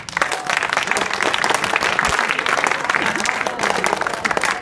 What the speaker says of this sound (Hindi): ताली बजाइए भाई इनके लिए।